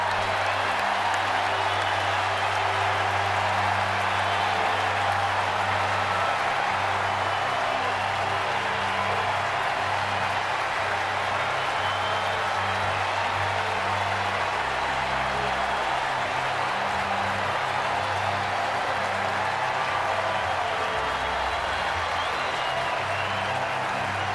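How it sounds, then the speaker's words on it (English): Baseball stadium crowd roaring and applauding after a Phillies no-hitter against the Giants, a sustained distant wall of cheers and clapping with a low rumble underneath, steady throughout. "And listen to this crowd."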